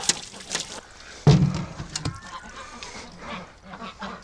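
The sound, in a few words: ducks calling on a cold winter morning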